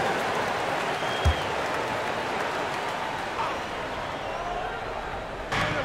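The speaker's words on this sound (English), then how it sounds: "Let's give them a round of applause for Florida Gators dancers." Arena crowd applause in a basketball video game plays as a steady, moderate wash of clapping and crowd noise during a dance team break, with faint thuds and squeaks beneath.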